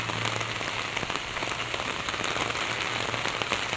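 Heavy rain pours steadily onto a surface, a dense continuous patter with no voices.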